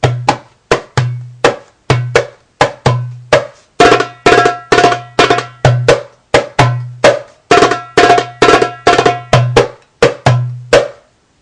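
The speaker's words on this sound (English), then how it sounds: "So one of them is just a simple 4-stroke roll." A darbuka plays a simple four-stroke roll over the maqsum rhythm, with crisp slaps and deep resonant doums in a steady, driving pattern, played solo and close.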